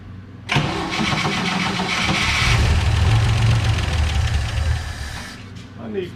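A 1963 GMC service truck with a rat rod engine cranks and catches, settling into a loud, rough, rumbling idle close by before easing off near the end.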